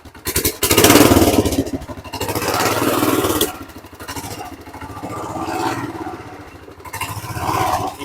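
A Tote Goat Trail Blazer mini bike engine runs close by on a cold day, its loud buzzing idle rising and falling in surges across the whole stretch, with no talking over it.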